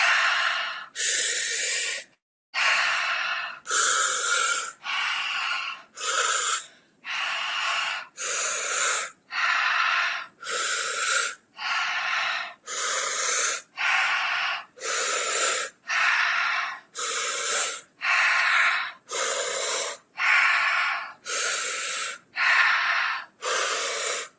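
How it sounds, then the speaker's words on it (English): Rapid circular breathing during a guided breath practice: about twenty forceful, rhythmic inhale-exhale cycles, loud, close and breathy, each lasting roughly a second, with no talking. "Circular breathing."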